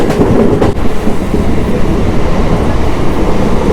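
A Diva–Roha MEMU train rolls along the rails with a loud, continuous rumble and rattle, heard from inside the carriage, with no voices.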